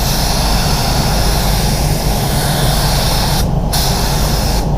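Spray gun applying clear coat to an Opel Insignia: a loud, continuous hiss of atomized paint, held steady with two brief cutoffs near the end as the trigger is released.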